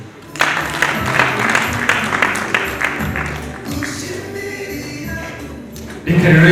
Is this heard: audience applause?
yes